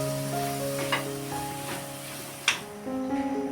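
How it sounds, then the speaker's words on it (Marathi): Soybean bhurji sizzles steadily in a hot pan while a spatula stirs it with fresh coriander, a continuous close frying hiss broken by a few light scraping knocks, no voices. "आता कोथिंबीर टाकते मी परतून घेते"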